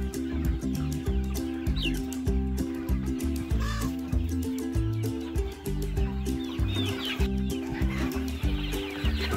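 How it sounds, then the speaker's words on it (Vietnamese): Free-range native chickens on a Vietnamese farm cluck and call over a steady, loud musical backing, with no voices in between. "Gà thả vườn, gà ta thả vườn."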